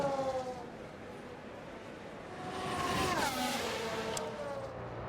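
Formula 1 race car engines whine past in the video game F1 Manager 24, faint at first and then rising as cars sweep by with a falling pitch.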